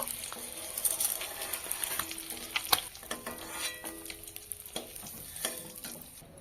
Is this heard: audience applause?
no